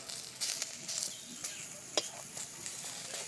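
Eggplant slices dry-fry in a pan with no oil, giving a steady close sizzle with brief sharp clicks and scrapes scattered through it.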